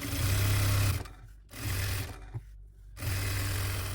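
A sewing machine runs in short bursts while top stitching a fabric seam on a shawl made from leftover gown fabric. It gives a steady motor hum in three runs, separated by brief pauses, with no talking.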